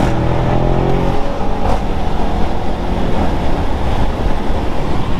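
A 750-horsepower Audi RS6 is pushed hard, its engine roaring loud and sustained with a heavy rumble of road and wind noise, and no voices over it.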